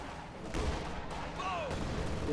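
A 57mm anti-tank gun fires in a Company of Heroes 2 battle, heard as a few dull, faint shots spaced apart amid the game's ambient noise.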